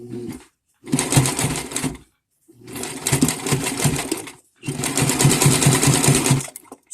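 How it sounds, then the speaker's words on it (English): A sewing machine runs a zigzag stitch along the edge of a men's shirt cuff, in three steady bursts of rapid needle chatter separated by short pauses, close and fairly loud with no talking. "it's set to a zigzag stitch. So I'm going to start sewing"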